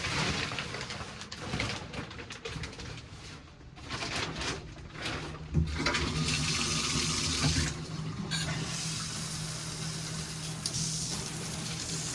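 Shower water runs at home in a steady, close hiss with splashing that shifts as the flow changes, and brief faint sounds in the background.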